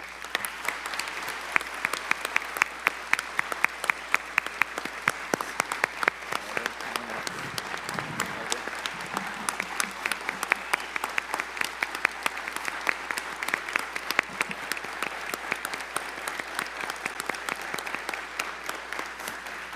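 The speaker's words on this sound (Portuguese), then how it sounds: "peço aos senhores uma calorosa salva de palmas" Sustained applause from a large crowd at a solemn legislative honors session in São Paulo, steady dense clapping that carries on for the whole stretch without a break.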